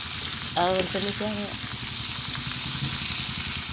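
Onions, garlic and ampalaya saute in a pan with a continuous hissing sizzle and light stirring, while a voice briefly speaks over it.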